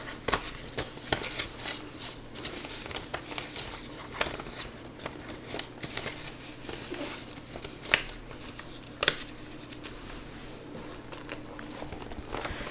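Paper cash bills, twenty-dollar notes, are counted and slipped into a gas budget envelope, making soft close rustles and crisp flicks at an irregular pace, with no talk.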